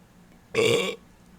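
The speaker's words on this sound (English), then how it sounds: "Water burp." One loud, close burp after drinking water, lasting under half a second, with quiet before and after.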